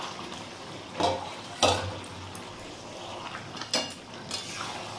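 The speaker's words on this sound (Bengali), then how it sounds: "মাংসটা দিয়ে কষিয়ে নেব, আর এঁচোড়টাও আমি দিয়ে দিলাম।" Meat and jackfruit stir-fried with potatoes in a pan at home, a few sharp spatula clinks and scrapes against the metal rising from a quiet, faintly sizzling background, no voices.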